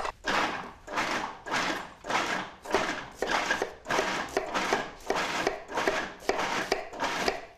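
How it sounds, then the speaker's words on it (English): An onion is chopped finely by hand with a knife on a board: steady, rhythmic close-up chops, about a dozen evenly spaced strokes with no talking. "I'm just going to chop up my onion really finely."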